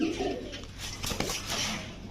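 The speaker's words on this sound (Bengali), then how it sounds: "অরিজিনাল পাকিস্তানি জালদার কবুতরগুলো" Pakistani jaldar pigeons coo softly nearby, a brief low murmuring call heard close by against faint background noise.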